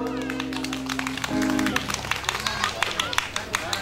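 An audience claps to welcome a singer at a Buddha's birthday celebration at a temple, scattered handclaps rising after a musical tone and someone talking.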